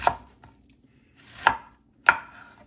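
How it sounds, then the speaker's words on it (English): Three sharp knife chops on onions against a cutting board, spaced about a second apart, close and distinct with quiet pauses between strokes, prepared for a braising liquid for a smoked burgundy spoon roast. "I'm going to chop up some onions"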